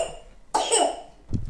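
A young child's cough, one sharp raspy burst followed shortly by a smaller second cough, close and loud with no talking.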